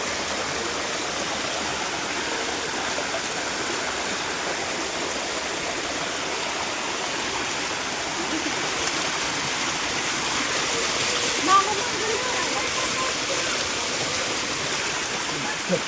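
A waterfall and stream near a hillside ashram cave in Khopoli produce a steady, dense rush of flowing water, constant and fairly loud throughout with no clear pauses.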